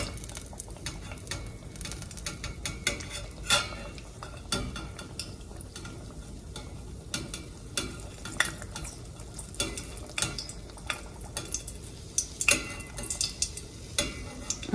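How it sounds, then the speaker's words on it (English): A fall fritter fries in oil in a pan, giving a soft, faint sizzle under scattered close clicks and scrapes of a utensil against the pan. "you can use whatever oil you have on hand to fry your fritter in"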